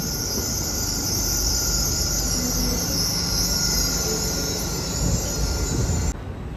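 A Northern passenger train arrives and terminates at Newcastle station. A loud, steady rumble of wheels on rails runs throughout under a sustained high metallic squeal, and the sound drops off abruptly near the end.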